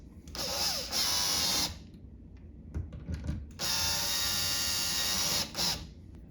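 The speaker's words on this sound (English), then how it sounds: "Tighten down the screws." A power drill drives screws while a keyless entry doorknob is being installed, with two long, loud whirring bursts and a few faint clicks and handling knocks in the pause between them.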